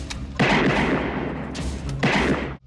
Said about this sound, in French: 3 coups de feu pour 3 morts